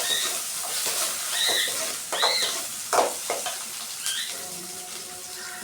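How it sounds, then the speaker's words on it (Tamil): Two dried red chillies, a few curry leaves and some onion sauté in hot oil, giving a soft continuous sizzle broken by brief scraping stirs from a spoon in the pan, close by. "2 காஞ்ச மிளகா, கொஞ்சமாக கருவேப்பிலை, கொஞ்சம் வெங்காயம். நல்லா நம்ம வதக்கிப்போம்."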